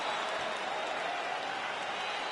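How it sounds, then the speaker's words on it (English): Crowd cheering and applauding after a UFC round, a steady wash of distant applause and roaring from a large arena audience, even in level throughout, with a commentator's voice faintly under it. "So the crowd voicing its appreciation."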